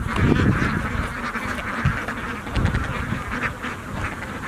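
A flock of ducks quacks continuously at a duck farm, dense overlapping calls close and loud, with a mixed group of males and females filling the scene.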